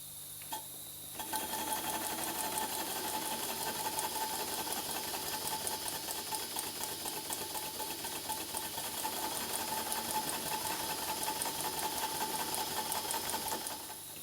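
A vintage model steam traction engine running steadily nearby, with a fast, regular chuffing and mechanical clatter over a constant hiss, no voices.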